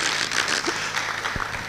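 Audience applause at a leadership conference: a dense, steady wash of clapping from a crowd that holds an even level across the whole moment, with no voices standing out.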